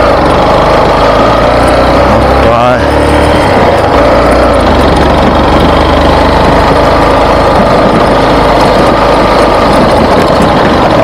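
A motorcycle engine runs loudly and close on a ride toward Morro da Melancia in Gararu, Sergipe, giving a continuous throbbing drone with a brief rev change midway.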